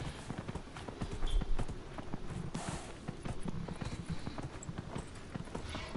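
Horse hooves clip-clopping in a video game, a quiet, fairly steady walking rhythm of hoof strikes with a faint background bed.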